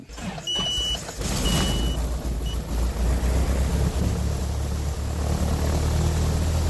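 A light aircraft engine at Salinas Municipal Airport, California, catches and settles into a loud, steady propeller drone, with a brief high beep early on.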